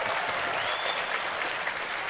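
Audience applause at RuneFest 2018, a RuneScape fan convention, as a crowd claps steadily and densely throughout, loud and continuous with no pauses.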